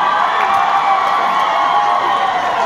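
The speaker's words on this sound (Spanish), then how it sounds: "Se escuchan muy fuerte los aplausos" A large crowd at a state marching band contest roars with steady, loud cheering and applause, sustained and dense throughout without any clear break.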